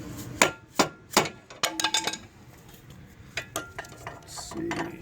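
Hammer blows on a car suspension part during tie rod and ball joint work, a few sharp metallic strikes, then a quicker cluster, then scattered hits, close, with low background noise and some clinking.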